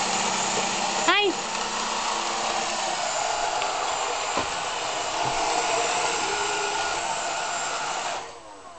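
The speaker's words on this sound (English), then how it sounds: "Is Roomba all done? Can you make it go again?" Roomba robot vacuum running on the floor, a steady whirring motor hum that holds for about eight seconds, then cuts off near the end, with a voice briefly heard over it.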